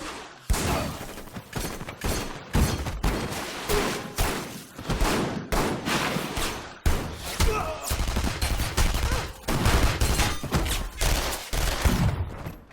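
Rapid volleys of gunshots cracking over loud dramatic music in a film scene, shots coming in dense irregular bursts throughout, close and forceful.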